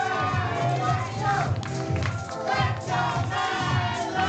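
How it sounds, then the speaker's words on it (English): Loud, dense roar of a wrestling crowd at an Austin, Texas pro wrestling show, steady cheering and shouting with surges and scattered claps, filling the whole stretch without letup. "And listen to this crowd"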